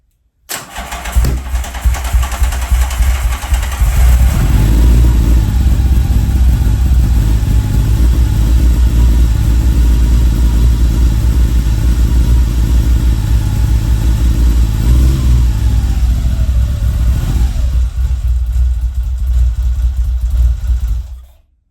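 A classic Triumph Trident three-carburetor motorcycle engine cranks and fires, then runs loud and steady at a rough idle while warming up, with occasional revs for about twenty seconds before cutting off.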